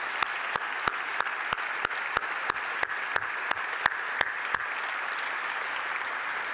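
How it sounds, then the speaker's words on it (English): An audience gives a round of applause in tribute at a State Department keynote event, a steady, moderately loud wash of clapping punctuated by sharp, regular clicks. "if we could offer him a round of applause in tribute to his service"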